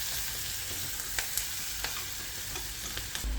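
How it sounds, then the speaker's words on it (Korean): Duck being stir-fried with onion, carrot, celery, garlic, cardamom and whole peppercorns in its own rendered fat, a steady close sizzle with a few sharp scrapes and clinks of the utensil against the pan. "이제 양파, 당근, 샐러리와 마늘, 카다멈, 통후추를 넣고 볶아주다가"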